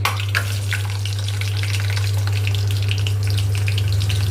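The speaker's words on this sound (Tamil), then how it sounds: "பொரிக்க போகிறோம்." Eggplant sizzles and crackles steadily in hot oil, loud and close, with a constant low electrical hum underneath.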